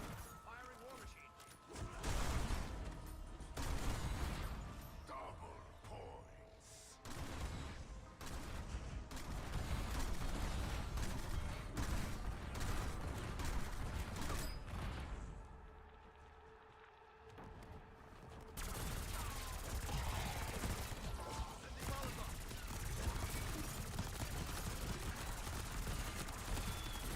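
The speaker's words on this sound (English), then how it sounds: "Firing war machine." Repeated heavy explosive bursts from the War Machine grenade launcher in Black Ops 6 Zombies, loud booms and crashes piling over game noise for most of the stretch, with a brief quieter gap midway before firing resumes.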